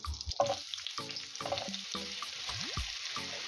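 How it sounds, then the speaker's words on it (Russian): Onion and carrot sizzle softly in a pan of hot vegetable oil with melted butter over low heat. A steady crackle runs under repeated scraping and clinking stirring strokes. "Жарим овощи на маленьком огне примерно минут"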